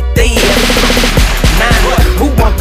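Rapid machine-gun-style gunfire sound effect inside a rap song, a loud burst of repeated shots layered over a heavy bass beat and pulsing music, with no voice over it.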